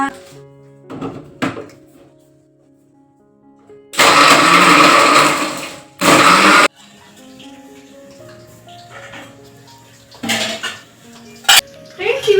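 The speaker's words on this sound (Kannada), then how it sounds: "ಈ ಒಂದು ಆ್ಯಪಲ್ ಜ್ಯೂಸ್ ಬನ್ನಿ ಇದನ್ನು ಮಿಕ್ಸರ್ ಮಾಡೋಣ" Mixer grinder blending apple juice roars in two loud bursts of a couple of seconds each, followed later by shorter pulses, with talking and clinking kitchen sounds between the runs.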